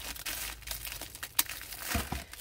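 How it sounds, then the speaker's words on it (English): A glitter-shedding item's plastic bag being cut open, giving close crinkling and rustling of plastic with a few sharper snips and tears over a couple of seconds. "I'm just going to try and cut this bag off."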